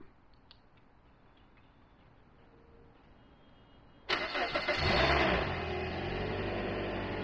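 A wet car's engine cranks and catches after a quiet stretch, jumping to a loud, steady idle that stays close and even, with no talk over it.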